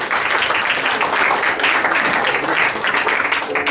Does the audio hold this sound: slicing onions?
no